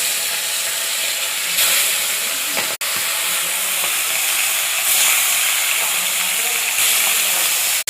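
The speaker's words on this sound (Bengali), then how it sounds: "জিরে, গোলমরিচ, কাঁচা লঙ্কা, আদা হয়ে গেছে। মাছটা দিয়ে দিলাম।" Fish frying in hot oil with cumin, black pepper, green chili and ginger produces a loud, continuous hissing sizzle with brief clicks, and a voice is heard faintly in the background.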